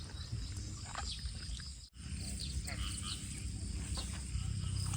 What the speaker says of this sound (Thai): โอ้ยเสียงกบสนั่นวันไหว